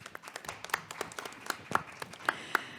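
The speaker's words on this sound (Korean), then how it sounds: "큰 박수로 맞이해 주시기 바랍니다." A small symposium audience claps; the sparse, uneven claps fade and thin out over a few seconds.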